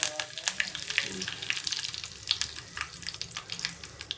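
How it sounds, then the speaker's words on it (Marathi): Curry leaves hit hot oil with crackled mustard seeds for a dal tempering, giving a close, vigorous sizzle full of rapid pops and crackles throughout. "मोहरी तडतडलेली त्यामध्ये कढीपत्ता घालायचा"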